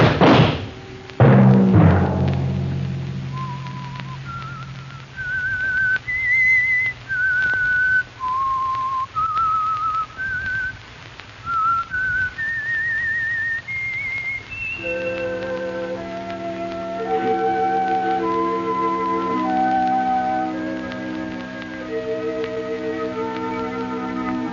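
A theme tune for The Whistler radio program is whistled as a slow, eerie melody of long notes, with a background chord that swells up under it partway through.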